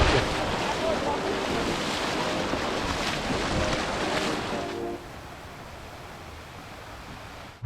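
Steady roar of ocean waves breaking on the coast, loud and continuous with wind buffeting the microphone, easing to a quieter wash of surf for the last few seconds.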